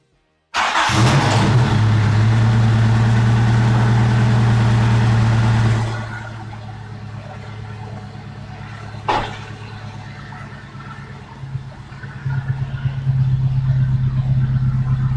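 An engine cranks and catches with a loud roar that holds high for several seconds, then drops to a steady rumbling idle with one sharp knock, before the revs climb slightly near the end.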